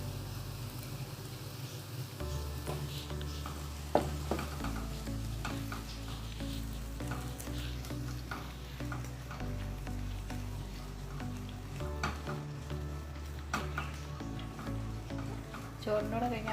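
Pounded beef frying and being stirred in a hot pan with chilli flakes gives a steady, close sizzle with scraping stirs throughout, under background music.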